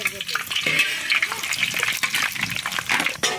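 Black mustard seeds and dried red chillies spluttering in hot mustard oil for a chutney, a steady dense crackle and sizzle with small pops running close and loud throughout.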